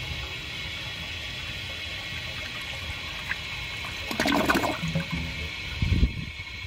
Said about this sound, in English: Once that tank fills up, I'm going to give it another flush